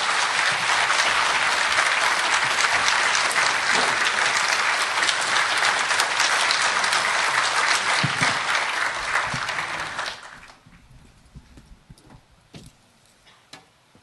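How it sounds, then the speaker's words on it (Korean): An indoor ceremonial audience applauds to welcome the pansori singer Wang Gi-seok onstage at a commemorative event, a dense, loud burst of clapping for about ten seconds before it abruptly thins to scattered claps and quiet. "여러분 박수로 맞아주시기 바랍니다."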